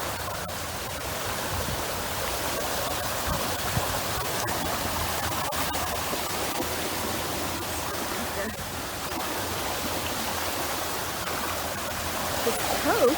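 Swollen creek in a Fort Worth park rushing as floodwater after a Texas summer storm, a steady broadband roar of churning water throughout, close and continuous.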